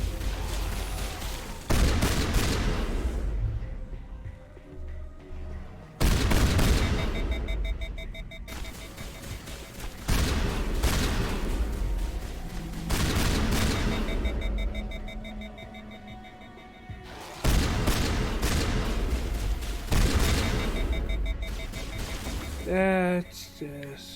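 Shotgun blasts ring out in a video game, about six heavy, sharp booms spaced several seconds apart, each followed by a decaying tail, with electronic beeping near the end.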